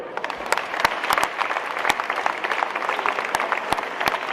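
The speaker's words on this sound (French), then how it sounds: "que ce petit gabarit que vous allez encore applaudir" An audience applauds at the inauguration of a gymnasium in La Londe-les-Maures, a dense rattle of clapping with sharp individual claps standing out near the microphone, continuing steadily throughout.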